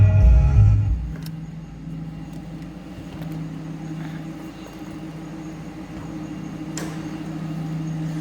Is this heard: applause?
no